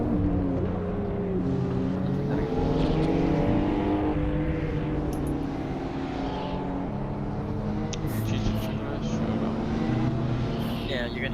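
Sports cars including an Audi S4, C63S, WRX STI, IS-F, M2 and RS7 cruising through LA canyons, heard as a steady engine drone with shifting revs from inside a car, voices talking throughout.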